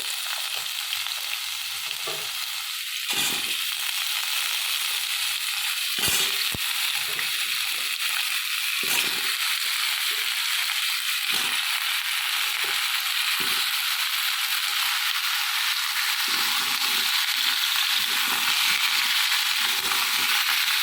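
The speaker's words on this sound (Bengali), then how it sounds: "আমি এখানে আলুটা ভেজে নেবো প্রথমে আলুগুলো আমি কড়ার মধ্যে দিয়ে দিলাম" Cut, washed potatoes frying in oil in a kadai give off a continuous bright sizzle, with occasional scraping and clattering as they are stirred, steady and close throughout, with no talking.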